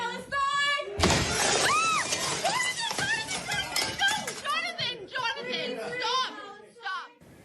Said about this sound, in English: You can hear protesters chanting before a glass door is shattered and tensions escalate.